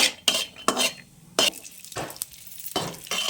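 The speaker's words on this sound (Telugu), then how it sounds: "జీడిపప్పు లైట్గా దూరంగా వేయించుకోవాలి బాగా." Cashews fried and stirred in ghee in a pan for dry fruit laddu, heard as repeated scraping stirs and light clinks of spoon against metal with a faint frying hiss beneath, no talking.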